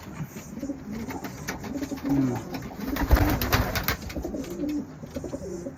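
Racing pigeons in a loft coo in soft, repeated low, throaty phrases that overlap close by, with light rustling and wing movement around them.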